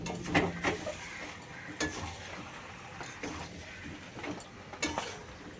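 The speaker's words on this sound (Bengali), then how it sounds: "মশলাটা দিয়ে দিলাম এবার একটু নাড়ব" Spoon stirring spiced vegetable curry in a pan, with scraping strokes and a soft sizzle, several irregular clinks and scrapes at close range, moderately quiet and with no talking.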